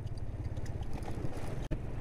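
Wind buffeting the microphone while riding a motorbike through sandy country near Khaplu, a constant low rumbling roar close by with a brief dropout near the end.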